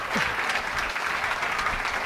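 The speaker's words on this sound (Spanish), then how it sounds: "Ahora vamos a darle otro aplauso a los misioneros del Señor." A church congregation applauds missionaries with a sustained round of clapping, fairly even and moderately loud throughout, one or two brief voices rising over it.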